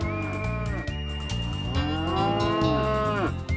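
Cattle in a ranch herd moo loudly and close, several long drawn-out lowing calls overlapping one after another, with no talk.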